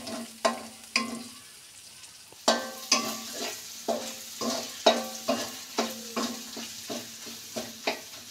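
An egg fries in a pan as noodle seasoning goes in, a spatula scraping in a repeated stirring rhythm over an ongoing sizzle, each stroke distinct and close after a brief quieter pause.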